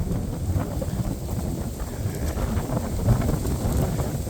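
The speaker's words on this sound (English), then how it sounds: "it's pretty windy up here" Wind blows hard across a hilltop on a horse trail, buffeting the microphone with loud, rumbling low-frequency gusts that swell and ease continuously, no voices.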